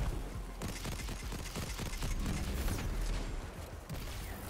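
Grenades from a grenade launcher in Destiny 2 burst in a rapid, overlapping string of muffled booms and crackles, sustained loudly across the whole stretch with no talk.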